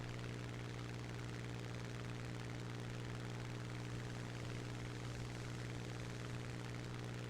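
A propeller fighter plane in the War Thunder video game flies an Immelmann half loop. Its engine gives a steady, even drone with a low hum and no voices.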